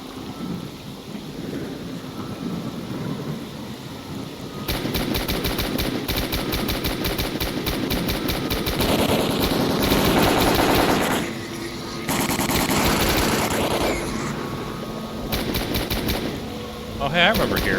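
Sustained gunfire in the shooter S.T.A.L.K.E.R. Call of Pripyat, Enhanced Edition: rapid automatic bursts that run for several seconds, break off, and then resume over rumbling, storm-like background ambience.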